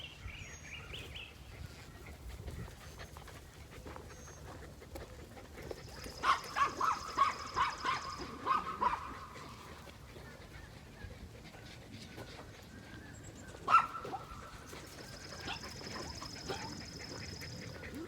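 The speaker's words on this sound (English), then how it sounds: "there's all these other dogs running. Those two Eskimos are yapping." Two American Eskimo dogs yapping at a distance, with scattered bursts of barking over a steady outdoor background.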